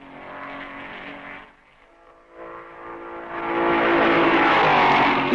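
Race cars at the 1955 Belgian Grand Prix roar past on the circuit, engine noise dipping briefly before two cars close in and swell to a loud, sustained howl.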